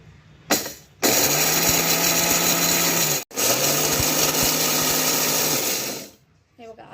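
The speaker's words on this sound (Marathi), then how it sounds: "थोडं थोडंच टाकायचं आहे आणि आपल्याला आता मिक्सर लावायचं आहे" Kitchen mixer grinder loudly whirring as it grinds fried sev for sweet laddu, starting after a brief bump, running steadily for about two seconds, pausing briefly, then grinding again before stopping.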